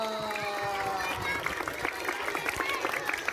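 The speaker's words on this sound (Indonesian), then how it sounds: "Beri tepuk tangan dong." Audience of mothers and children clapping at a Muharram religious lecture, a brisk burst of scattered hand claps mixed with voices and chatter.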